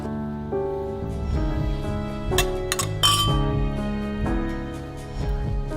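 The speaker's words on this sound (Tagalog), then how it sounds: "Bossy, cheers!" Glasses clinking together in a banquet toast, a run of bright chimes and clinks over a steady music bed, with no talk.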